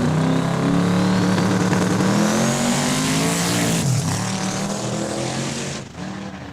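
An 1989 Chevrolet Beretta makes a drag racing licensing pass down the strip, its engine roaring loudly and rising in pitch as it accelerates away, fading slightly toward the end.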